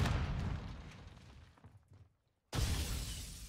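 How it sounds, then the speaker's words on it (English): In Modern Warfare 2 gameplay, a flash grenade goes off as a loud, dense burst that thins into near silence before a second sudden, harsh blast cuts in, with no talking over it. "Throwing flash grenade."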